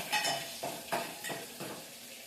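A tadka tempering for dal is made in a home kitchen pan, with soft sizzling and frying broken by about four rhythmic stirring scrapes of a spoon against the pan, fairly quiet and close, with no talking.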